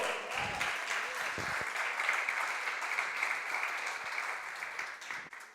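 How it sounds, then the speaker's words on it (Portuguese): Congregation at a church service applauding, a steady dense wash of clapping sustained for several seconds at moderate level, with faint voices mixed in. "Você pode aplaudir o Senhor?"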